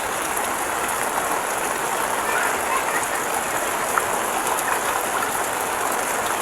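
Steady rain falls continuously at sea during a fishing trip, with a dense, even hiss and no breaks, close by and fairly loud throughout.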